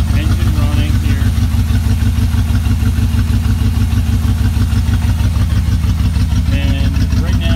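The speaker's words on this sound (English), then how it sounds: "I wanted to take a video to show you the engine running here." A 1981 Mercedes-Benz 380SL V8 idles steadily up close without its full exhaust fitted, giving a loud, even, throbbing pulse that holds throughout.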